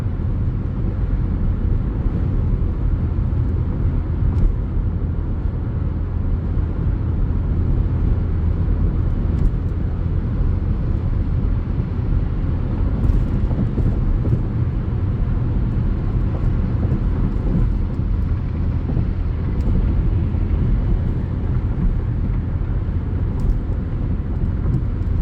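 Dodge Challenger cruising at about 70 on the road, a steady loud low road and engine rumble with tire and wind noise, unbroken for the whole stretch with no talk.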